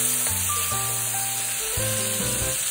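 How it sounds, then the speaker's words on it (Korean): Salted Korean zucchini stir-fries in a pan for a spicy side dish, with a continuous even sizzle beneath prominent background music. "절인 애호박을 먼저 넣어 볶아주세요"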